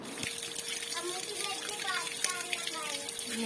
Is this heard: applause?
no